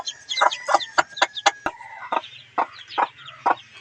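An aggressive mother hen with chicks clucks in a quick series of sharp, close calls with short pauses between them, alone and fairly loud.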